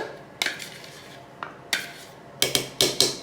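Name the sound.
turning cling-wrap-lined dough over into a bowl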